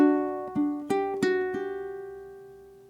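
Ukulele playing the closing bar of a Scarborough Fair phrase: five soft plucked notes in an even rhythm, quiet and close, the last chord left ringing and decaying alone.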